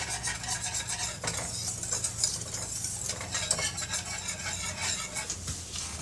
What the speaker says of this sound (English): So you just keep stirring it and do not leave it.